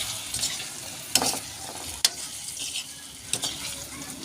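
Bananas and white sugar are stirred in a pan, soft scraping strokes with a few utensil clinks over a gentle sizzle, close and fairly quiet.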